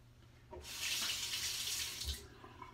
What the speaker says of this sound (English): when the head becomes filled with shaving cream, you just rinse it off